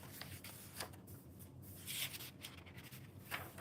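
A pen scratches out handwritten notes on paper in short, faint strokes with small pauses between them. The sound is close but very quiet, with soft rustles mixed in.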